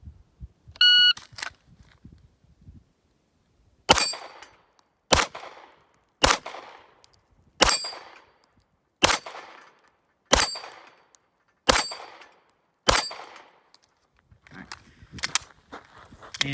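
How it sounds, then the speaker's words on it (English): Pistol shots fired at falling steel popper targets on a shooting range, a start beep followed by about eight sharp, evenly spaced loud cracks, each trailing a brief metallic ring. "some support hand shooting on these falling poppers, these falling steel"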